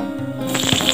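Black cumin seeds tempering in hot oil left from frying lentil fritters, a quiet hiss that breaks after a moment into quick, dense crackling and light popping, close and alone.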